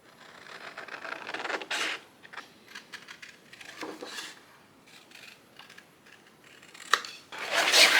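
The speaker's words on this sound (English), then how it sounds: "And get some scissors on that." Scissors snip through coloured paper for a collage in a series of brief, crisp cuts at irregular intervals, close by and fairly quiet, with some rustling between strokes.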